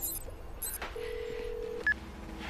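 Cartoon telephone being dialed: a few short, distinct keypad tones, one held longer than the rest, clean and close over faint background hum.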